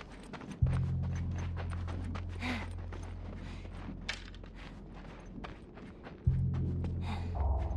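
Horse hooves clip-clop in a steady walking rhythm in The Last of Us, a moderately near, even cadence over low droning tones and scattered background noises.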